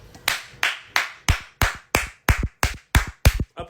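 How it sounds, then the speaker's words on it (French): Eleven sharp hand claps ring out at a steady, slightly quickening rhythm, each a crisp close slap with a short decay, with no talk around them. "Applaudissements."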